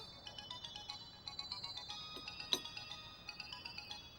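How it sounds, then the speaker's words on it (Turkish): A mobile phone rings with a repeating electronic melody of quick, bright tones. It plays fairly faint and steady, with no voices over it. "Kız, senin telefonun mu çalıyor?"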